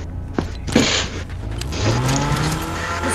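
A car driven off in the video game Fortnite, its engine rising in pitch as it pulls away and accelerates, loud and close with a few sharp clunks at the start.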